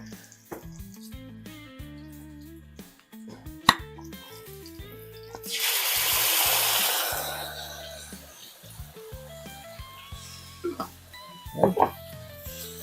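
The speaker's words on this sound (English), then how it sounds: "What we're going to do now is pour in this jar of sauce." A jar of thick sauce pours into a pan with a gloopy, sloshing rush lasting a couple of seconds, followed by a few soft plops and splatters, with music playing underneath.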